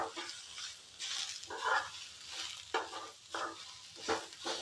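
Coriander stems and sesame seeds roasting with onion and ground masala in a pan, heard as soft rhythmic stirring strokes over a low sizzle, close and fairly quiet.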